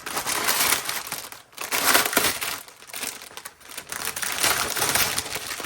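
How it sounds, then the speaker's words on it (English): A loud crinkly plastic bag being opened close up during an unboxing, bursts of crackling and crumpling rising and falling in several waves with brief pauses. "I open this loud crinkly paper, or plastic bag rather"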